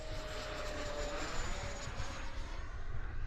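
A Freewing 70mm F-16 radio-controlled electric ducted-fan jet flies overhead in light wind, giving a steady, rushing whine that stays fairly constant and moderately distant throughout, with no talk.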